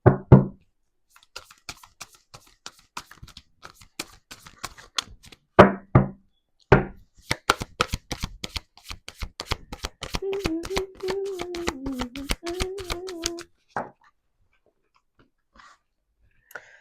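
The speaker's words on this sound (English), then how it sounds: "I'll pull a couple more cards." Tarot cards being pulled and shuffled by hand, a run of crisp, rapid riffling flicks and taps in quick bursts, close and fairly loud, with a soft hum and a few brief pauses between the shuffles.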